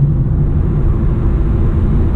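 A car passes on a highway, heard from inside a Honda Accord at high speed: a steady, loud low rumble of road and engine noise with no distinct swell.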